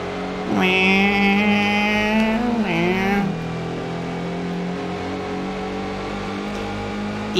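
Car engine revving in the Gran Turismo 1 racing game, using a shared engine recording, rising in pitch then dropping after about three seconds, with a steady drone continuing to the end.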